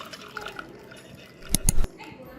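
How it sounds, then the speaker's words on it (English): Boiled ginger tea poured through a strainer, heard as a short burst of splashing and trickling liquid after a quiet stretch, close and fairly loud. "strain it with the help of strainer"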